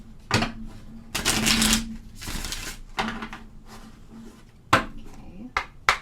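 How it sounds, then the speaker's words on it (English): Tarot cards being shuffled by hand, bursts of riffling and flicking snaps in uneven clusters, close and fairly loud, with some talk at moments. "get the cards shuffled up a bit here."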